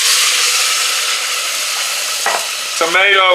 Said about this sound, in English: we're going to mix all them onions up in here and get everything going.